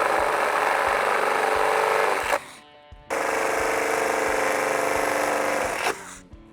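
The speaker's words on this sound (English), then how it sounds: "So let's drill that out now." A power drill bores holes in the metal roof of a 2021 Toyota RAV4 to fit a Prinsu roof rack. There are two sustained, loud whining bursts, with a brief pause between them and a cutoff at the end.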